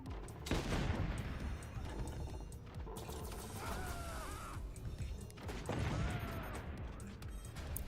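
Machine gunners firing in the Forts RTS game, sustained rattling bursts mixed with crashes and impacts, loud and continuous, with two heavier volleys separated by busy battle noise.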